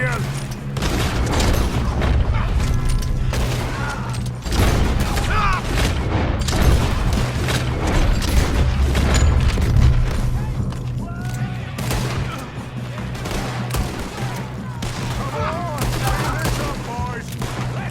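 Loud, close gunfire in Red Dead Redemption 2 during a mountain shootout: a dense, steady stream of rifle and pistol shots with booming reports, with characters talking and shouting throughout.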